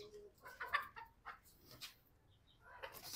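A rooster clucks and squawks in short, faint bursts while being caught by hand, with scuffling and brief sharp calls spread across a quiet background.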